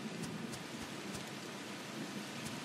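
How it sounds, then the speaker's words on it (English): Rain falls in the farming video game Everafter Falls, a steady soft hiss of drops with occasional light taps, even and continuous with no voices. "I mean snowing, raining again."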